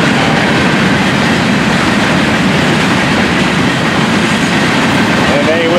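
A Florida East Coast Railway freight train passes close by, its steady loud rumble of rail cars continuous throughout, with faint wheel squeal near the end.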